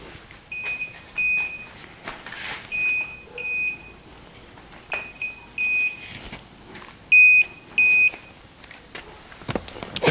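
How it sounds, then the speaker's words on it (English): Short electronic beeps from a Kia Rondo with a low battery repeat in small clusters at irregular intervals, clear and fairly close, with light clicks and handling noise between them. "It's beeping because the battery is going down."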